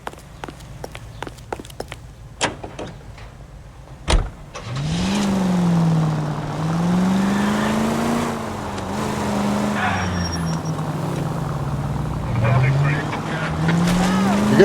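A car speeding in the video game L.A. Noire, a steady loud engine drone with rising and falling revs after a sharp impact, preceded by scattered footsteps and clicks; voices talk over it.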